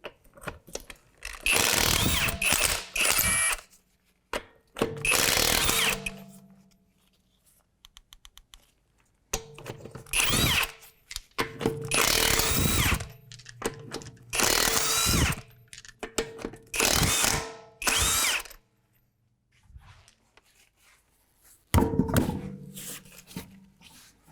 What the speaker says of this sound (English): We're going to take our wheel off and use a 22mm socket.